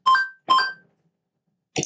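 Two quick bright coin-pickup chimes in the Scratch coding sound library, each a short ringing blip, followed by the start of a third, clean and close with silence between.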